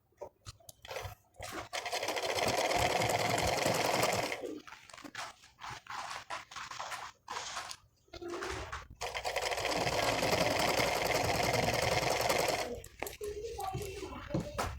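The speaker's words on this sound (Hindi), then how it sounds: "तो हम पूरे में सिलाई लगा लेती हूँ।" An electric sewing machine stitches a saree in two long, loud, steady whirring runs. A shorter stretch of stopping, fabric handling and talk separates them, and someone speaks at the start and end.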